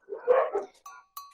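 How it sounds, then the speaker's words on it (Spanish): Dogs bark in the background of a Spanish-language online class, a short, muffled bark followed by two quick fainter yelps, fairly distant and with no talk over them. "Están los perros ladrando, así que lo siento."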